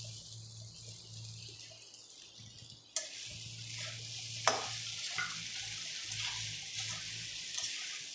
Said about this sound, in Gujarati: હવે જ્યાં સુધી સાબુદાણા ટ્રાન્સફર ના થાય ત્યાં સુધી આપણે એને ફેરવવાના।